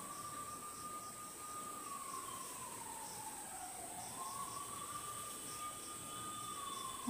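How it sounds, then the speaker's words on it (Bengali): A police siren wailing far off at night, a faint, slowly rising and falling tone that runs steadily for several seconds over a low background hiss. "পুলিশের গাড়ির শব্দ হচ্ছে না?"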